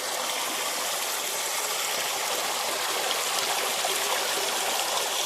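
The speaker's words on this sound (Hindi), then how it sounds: "ये तो पानी बढ़ गो" Stream water in spate in Kumaoni hill country, rushing steadily and loudly with a dense broadband roar and no pauses, close by and alone.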